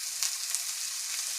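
Onions sizzling and frying in hot oil in a pan while cooking beef cutlet, a steady close crackling hiss with a couple of brief louder pops, no talk.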